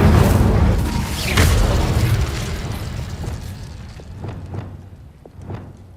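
Incendio fire spell cast in Hogwarts Legacy, a loud whooshing burst with a rumbling roar that slowly fades, followed by several smaller pops and crackles.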